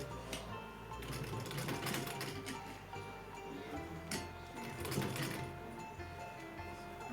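A sewing machine stitches a small Laddu Gopal doll dress, running steadily with a fine, rapid mechanical ticking and a soft motor hum throughout.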